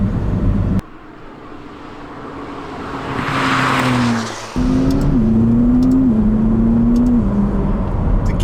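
A rear-wheel-drive McLaren 570GT with 570 horsepower accelerates hard, its engine note rising through the revs, dropping at a gear change and climbing again, loud and close throughout with no speech.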